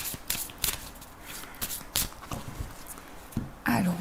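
Tarot cards being shuffled before a reading, a run of quick papery riffles and soft slaps in irregular bursts, close and clear, with a brief voice near the end.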